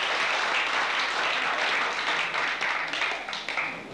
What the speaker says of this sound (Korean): 자 여러분 박수 한번 들으시면 될까요?